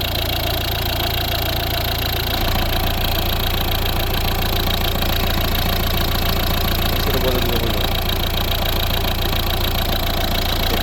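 A 2011 Volvo V60 D2 1.6-litre four-cylinder turbodiesel idles steadily with a low, constant rumble and light knocking clatter, running close and loud throughout.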